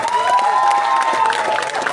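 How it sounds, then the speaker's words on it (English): Audience applause and cheering for a pianist at a KTV finals show, a dense continuous crowd clapping with scattered shouts and whoops over a sustained held tone, loud and close throughout. "Please give him a round of applause as well."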